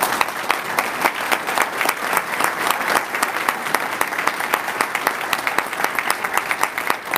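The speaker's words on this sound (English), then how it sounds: "So let's give them a round of applause for that." Steady applause from an audience at a detention academy graduation ceremony for sheriff's office cadets, dense sustained clapping with no talk, loud throughout.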